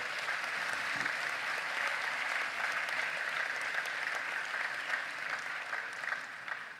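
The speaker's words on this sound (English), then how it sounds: "let's give all the members of the Commission and the staff a round of applause and thank them" Sustained audience applause for an election commission and its staff at a South African election results event, a continuous, even roar of many hands clapping that holds steady throughout.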